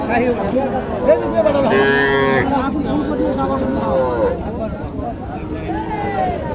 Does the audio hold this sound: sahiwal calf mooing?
yes